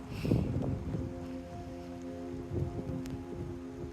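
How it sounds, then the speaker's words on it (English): Steady wind roars and buffets the microphone at Promised Land State Park, with low rumbling gusts and faint rustling throughout. No one speaks. "It stings when it hits you because it's pretty windy."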